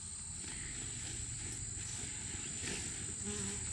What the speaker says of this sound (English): these are places where the bees are coming in and thinking about setting up shop in these two hives right here